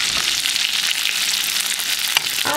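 Steak sizzles and fries steadily in a hot pan while being basted, a dense continuous crackle with a few sharper spatters near the end, close and fairly loud.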